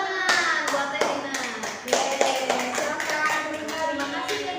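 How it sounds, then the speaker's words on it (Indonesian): Children clap for a classmate during a home-schooling lesson, a small group of close hands tapping in uneven bursts, with faint voices talking in the background. "Kasih tepuk tangan buat Elina"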